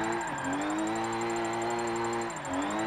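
A car engine in Forza Motorsport 7 holds high revs in a steady, sustained whine on a drift build, dipping briefly near the end before climbing again.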